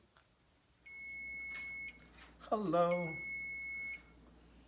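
A high electronic oven timer tone sounds steadily, pauses briefly while someone speaks a short word, then resumes and stops.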